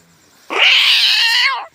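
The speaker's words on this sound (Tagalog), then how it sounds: "nag-aaway yung cobra kag pusa oh" A cat yowling while fighting a cobra, one loud, drawn-out, harsh yowl lasting just over a second, close and alone.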